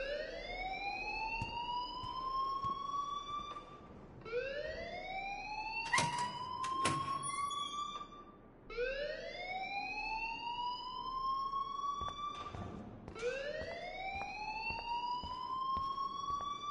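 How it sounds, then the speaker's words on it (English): A fire alarm in the video game Life is Strange wails in repeated rising siren sweeps, about four cycles with brief breaks and some clunks between, steady and fairly distant-sounding with no speech over it. "please turn off that alarm since that's your job"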